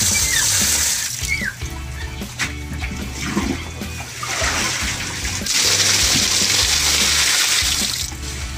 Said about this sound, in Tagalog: Papalitan lang namin ng tubig.